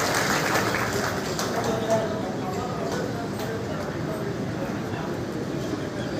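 An audience at a community talent award ceremony gives a long, steady round of applause welcoming honoured daughters, a dense, even patter of many hands clapping throughout with no pause.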